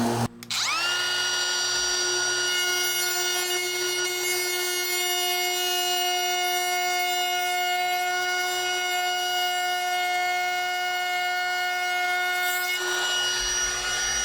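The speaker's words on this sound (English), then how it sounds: "I just use a little straight cut router bit." A router with a small straight-cut bit recesses a mobile home electrical panel, a loud, steady high-pitched whine that spins up quickly, holds constant for about twelve seconds, then cuts off.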